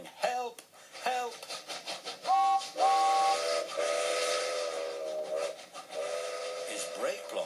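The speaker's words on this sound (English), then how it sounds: "James came whistling through the yard" Steam locomotive whistle of James, a red tender engine, in a railway yard: several sharp whistle blasts then a long sustained chord-like whistle, near and loud, with rail clatter beneath.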